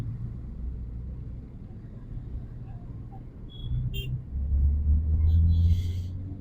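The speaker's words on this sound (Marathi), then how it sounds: "त्यामुळे हे ट्रॅफिक." Highway traffic near the Mumbai Express Highway, heard from a motorbike ride, a continuous low engine and road rumble that swells louder toward the end, with a voice talking over it.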